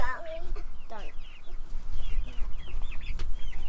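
Chickens from a permaculture flock emerge outdoors, clucking and chattering close by in overlapping bursts, with a low rumble of wind or handling noise underneath.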